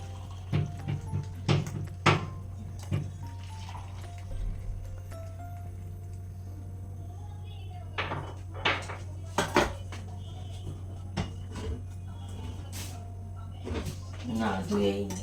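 Tea dishes being washed in a home kitchen, with scattered clinks of cups and plates, clatters and brief splashes of water at close range, alongside a steady low hum and a person talking at times.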